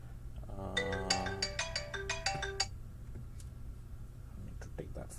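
A phone ringtone plays a bright, repeating melodic pattern for about three seconds and then stops, followed by quieter background sounds.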